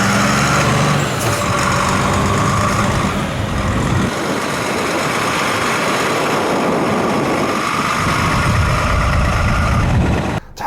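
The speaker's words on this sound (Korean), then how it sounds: "트럭의 DOHC 엔진 감성을 한번 느껴보시고" Scania truck with a DOHC engine running steadily, a loud continuous diesel drone with low rumble and slight shifts in pitch, alone without talk.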